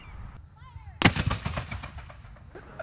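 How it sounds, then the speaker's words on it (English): A cannon fires in a demonstration at Fort Scott, one sharp heavy boom with a rolling echo that decays over about a second and a half, following a quiet moment. "The last demonstration of the day was a cannon used to show the labor of the fort."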